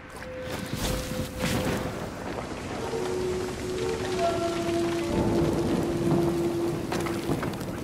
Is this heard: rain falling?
yes